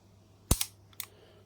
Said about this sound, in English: This is the sound of the shutter.